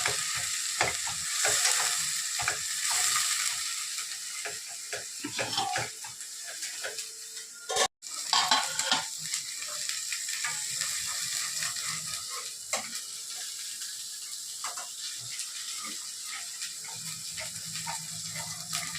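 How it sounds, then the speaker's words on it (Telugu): Masala sizzling in a pan for mutton curry, turmeric added, stirred with a spoon: a steady hissing fry broken by frequent scraping and clinking strokes, close and continuous. "మసాలా కొంచెం కొంచెం మాగాలి వేగాలి వేగాలి"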